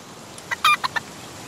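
Chicken in the video game Palworld giving a few quick, high clucks in a brief burst, close and clear over faint background hum.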